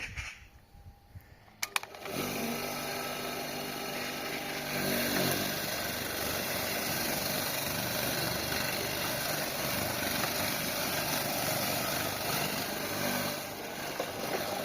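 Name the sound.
homemade lawn mower engine running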